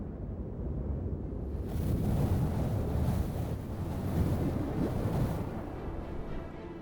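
Waves surging and crashing on the Gulf coast, a loud rolling wash that swells and recedes, buffeted by wind noise on the microphone.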